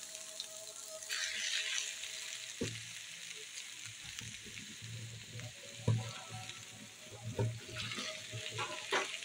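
Diced potatoes sizzle steadily in a pan of hot oil alongside cabbage, carrot and capsicum for a vegetable samosa filling, with occasional stirring scrapes and bursts of louder crackle throughout.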